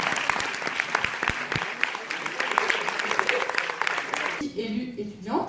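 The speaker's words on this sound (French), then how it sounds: "on peut les applaudir" Audience applause at a participatory budget results ceremony, a few seconds of dense clapping from the crowd that cuts off abruptly, with a voice speaking through it.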